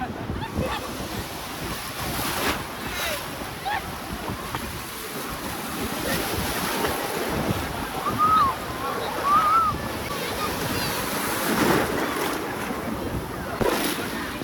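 Big, strong sea waves surge at Dapoli-Murud beach, a rolling roar of surf that swells and breaks repeatedly amid heavy wind buffeting the microphone.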